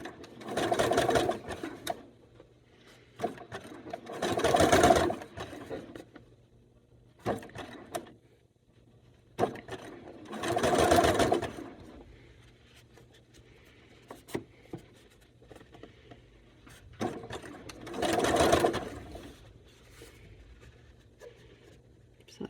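A sewing machine stitching quilt fabric in repeated close bursts of fast whirring stitches, separated by quieter pauses and small handling clicks, alone with no voices.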